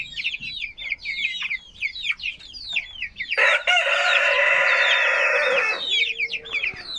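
Sussex chicks peep rapidly in high chirps, then a louder hen's drawn-out call or crowing cuts in for a few seconds before the peeping resumes.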